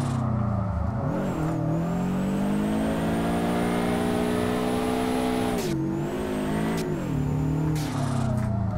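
In the Drift21 driving game, a Subaru BRZ boxer engine revs hard and holds high for several seconds, dropping and rising again in short bursts, loud and continuous with no talk.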